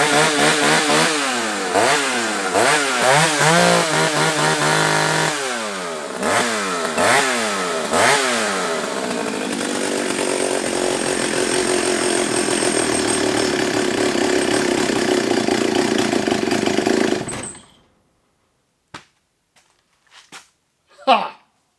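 An old 45-year-old Solo 660 AV chainsaw, rescued from the tip and restored, revs up loudly in repeated bursts, then holds a steady high roar for several seconds before cutting out abruptly, leaving a few faint knocks.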